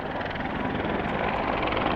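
A helicopter flying at an airshow, its rotor producing a steady rapid chopping throb over a low engine drone, loud and sustained.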